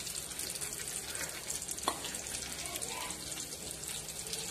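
Fish fries in oil in a pan with a steady, dense hiss and crackle that stays even throughout, heard up close along with a single faint knock.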